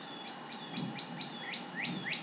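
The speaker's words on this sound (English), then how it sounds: "that bird's getting louder and louder" A small bird chirps in repeated rising tweets that grow louder toward the end, over a steady background hiss.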